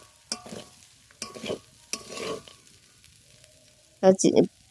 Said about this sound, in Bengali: চিলে পোলাও আমার একদম রেডি আমি ভালো করে একদম নেড়ে চেড়ে ভাজা ভাজা করে নিয়েছি